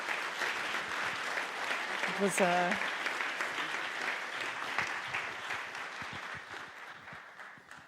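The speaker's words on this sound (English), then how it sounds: "please give a warm applause to my panel members" An audience at an EU competition conference applauds panel members with sustained clapping that gradually fades. A brief spoken word cuts through partway in.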